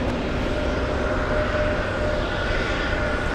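Southwest Airlines jet in Imua 1 livery taxiing at Boston Logan airport, a steady broadband engine roar and rumble holding at constant level throughout, fairly near with no talk.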